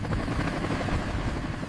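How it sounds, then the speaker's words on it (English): A helicopter's rotors thump and whoosh loudly and continuously, a dense rhythmic roar close by that fills the whole moment, with no voices. "Audio is dominated by the loud, rhythmic thumping and whooshing of helicopter rotors"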